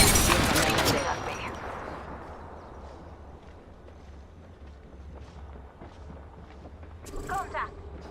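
Gunfire in a shooter video game opens with a loud, dense burst of rapid shots, then drops to a low rumbling background with a few fainter pops near the end.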